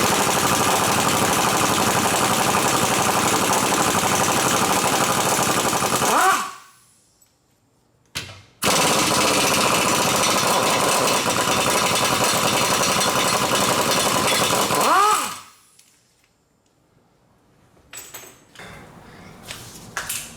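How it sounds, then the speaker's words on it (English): An impact gun rattles loose 17mm front differential bolts on a 1JZ-swapped S13 drift car, in two long, loud, continuous hammering bursts, each tapering off, followed by faint clinks of tools and parts. "I'll definitely use the impact gun for this because it's a little hard."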